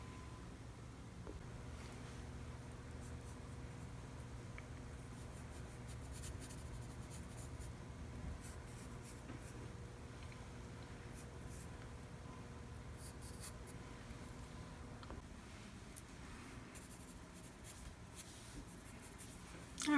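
Pencil scratching and shading on paper during a timed figure drawing session, a steady soft rasp running continuously under a light background hiss, with no talking.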